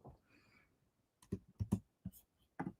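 Quick bursts of keystrokes on a computer keyboard, a few close clicks clustered together after a quiet start, typed rapidly at a desk.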